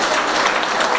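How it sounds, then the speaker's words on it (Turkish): Dense, loud applause from a large audience at a circumcision celebration, a continuous wash of clapping with no break. "el çalan elleriniz var olsun."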